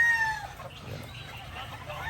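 Gamefowl roosters and hens at a Philippine farm where many stags are tethered, with a crow fading in the opening moments, then scattered clucks and calls over steady low outdoor rumble, fairly near and alone without talk.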